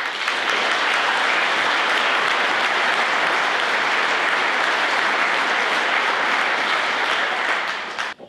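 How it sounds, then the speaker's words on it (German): Loud, sustained applause from a large crowd at a town New Year's reception in Essingen, a thick, even wash of clapping that holds steady for several seconds before stopping abruptly. "ein großer Applaus an dieser Stelle"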